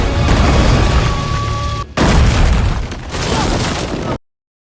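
Loud, booming film explosion with heavy low rumble, two blasts in succession with a brief break between, ending abruptly in silence.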